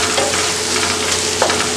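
Masala for Malabar fish biriyani sizzles in a pan while being stirred, a continuous close frying hiss with soft scraping strokes from the stirring, no voices.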